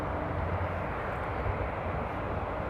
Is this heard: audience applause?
no